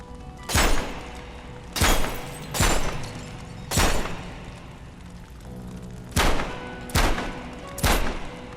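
Tokarev pistol gunfire in the video game Metro Awakening: seven sharp, loud single shots spaced unevenly about a second apart, each a crisp crack with a short boomy tail, no talking.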